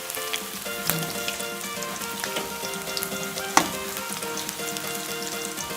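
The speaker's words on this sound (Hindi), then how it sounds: "ऑयल हमारा गर्म हो चुका है, उसको हम डीप फ्राई करेंगे।" Chicken deep frying in hot oil for Indo-Chinese chili chicken, a steady close crackling sizzle with scattered pops and one sharper spatter midway, no voices.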